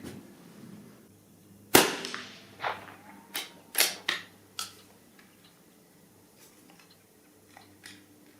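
Rifle shots from a Mossberg Patriot in .350 Legend firing Browning BXR ammo, heard as a string of about six sharp distant cracks with short gaps, fairly faint, followed by a few softer pops.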